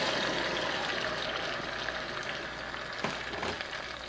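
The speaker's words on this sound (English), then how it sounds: "now we're going to go in with the tomatoes, which will stop the cooking so this garlic is not getting away from us" Tomatoes go into a pan of sizzling garlic for a marinara sauce. A steady, moderately quiet frying hiss carries on throughout, with a brief clatter and splash near the end.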